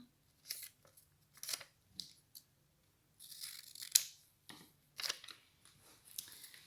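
Scissors snip across paper pages for a homemade bookworm pen holder, a series of short crisp cuts and crunches in bursts with gaps between, close and fairly quiet, no talking.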